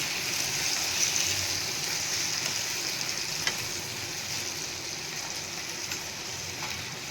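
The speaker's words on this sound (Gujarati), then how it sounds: "આપણે એમાં ટમેટા એડ કરી દઈશું। એને મિક્સ કરી લેશું।" Tomatoes stirred into fried onion and garlic in a pan for South Indian tomato and coconut chutney: a soft continuous sizzle with faint stirring scrapes, no talk.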